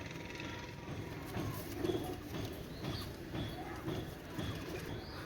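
A pair of Oman Teddy Master pigeons coos softly and steadily, a low, faint murmur under light background noise.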